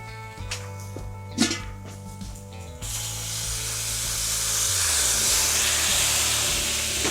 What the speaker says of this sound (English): Steam the buns here.